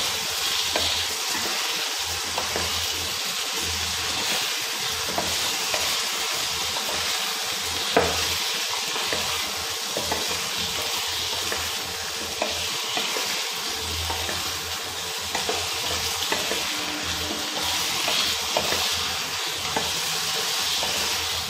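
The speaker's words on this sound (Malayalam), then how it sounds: "വേവിക്കുമ്പോൾ ഇടയ്ക്കിടയ്ക്ക് ഒന്ന് ഇളക്കി കൊടുക്കണം." Potato and cauliflower pieces sizzle steadily as they fry in a pan, with a spoon scraping and stirring through them in irregular strokes over continuous close, moderately loud crackling.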